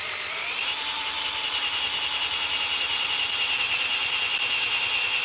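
Steady high whine of a power drill driving an auger bit into a log, the motor spinning up in the first half second and then holding a loud, even drone.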